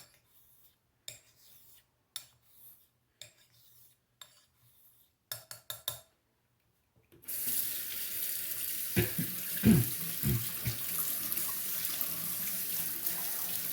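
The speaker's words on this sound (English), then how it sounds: "Gonna rinse off the blade real quick." A straight razor blade is rinsed under a running kitchen tap, making a steady close rush of water that starts suddenly after a few soft, scattered clicks and taps.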